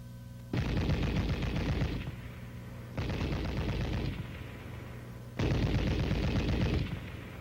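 An M73 tank machine gun fires three sustained bursts of rapid automatic fire, each lasting roughly one and a half seconds with short gaps between them, loud and alone without any voices.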